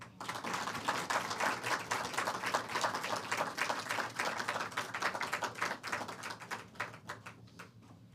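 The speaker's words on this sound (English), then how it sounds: "You guys can clap." An audience at a high school debate showcase claps for a team being welcomed to the stage, brisk even clapping that carries on for several seconds, then thins out and fades toward the end.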